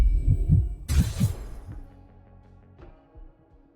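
A heartbeat sound effect thumps in several low, heavy beats up front, followed by a sharp crash and a softer fading tail with faint later pulses.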